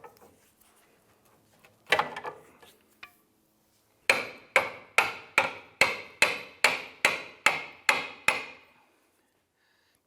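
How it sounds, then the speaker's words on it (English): A pry bar works the control arm of a 2005–2007 Ford 500 out of the chassis. A few scattered knocks come first, then a run of about ten evenly spaced, sharp metallic blows, close and loud. "I'm going to use our pry bar to work the control arm out of the chassis."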